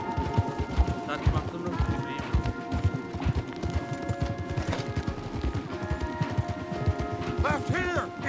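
Horses gallop hard in Red Dead Redemption 2, a dense rhythmic clatter of hooves carrying on throughout, with voices talking over the ride.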